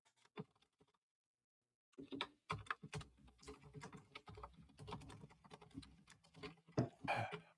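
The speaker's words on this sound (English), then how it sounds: "He's still typing something" Fast, irregular clicking of keys on a computer keyboard, fairly close, starting after a short silence and continuing in quick bursts.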